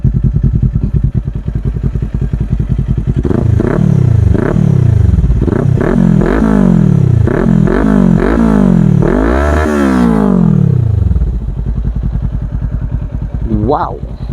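A 2022 Kawasaki Ninja 400 with an Akrapovic exhaust idles, then is blipped about a dozen times in quick succession, each rev rising sharply and falling back, before settling to a steady, loud idle.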